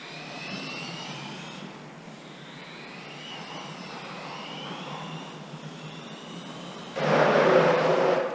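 A Tamiya M-08 RC touring car motor whines as the car drives laps, a high pitch rising and falling with throttle changes and then swelling into a louder, harsher burst near the end, with no talking.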